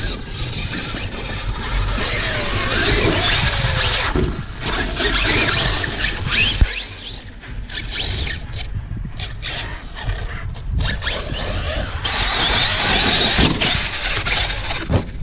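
A Traxxas X-Maxx 8S and an Arrma Kraton 6S RC car tear across sand at a construction site, electric motors whining and tires churning in a constant loud roar with bursts of squeal, no voices.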